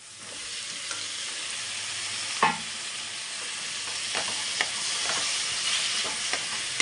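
Bitter gourd fries in a pan for a masala dish, with a steady close sizzle and several sharp scraping strokes from a spoon stirring it.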